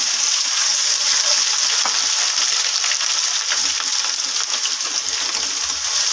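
Spring onion and ginger fry in hot oil, giving a loud, continuous close sizzle with bright crackling spatter and no voices.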